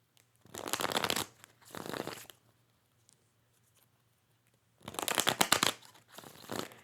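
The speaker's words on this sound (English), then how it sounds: "I'm going to shuffle 6 times" A deck of tarot cards is shuffled in two separate bursts of riffling and sliding, with a quiet pause between them and a steady low hum underneath.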